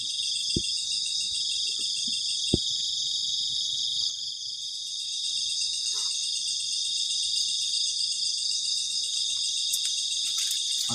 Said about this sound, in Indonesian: ketika malam suara jangkrik itu kenceng banget.